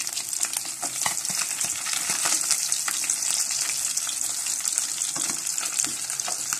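Fish frying in a pan for a breakfast dish give off a steady, loud sizzle with crackling pops and occasional stirring. The sound runs close and continuous throughout, with no talking.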